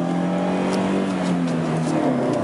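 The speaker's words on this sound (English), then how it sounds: "motor sound is a little bit hard, not best in class, but like in middle level" A Volkswagen New Beetle from the 1997–2011 generation drives on a test run, its engine giving a steady, fairly loud, slightly hard hum with a rising tone, heard from inside the car.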